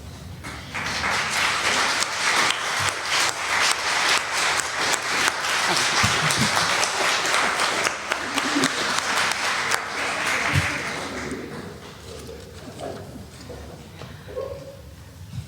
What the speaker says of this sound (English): if you could please stand so we could see who you are and give you a round of applause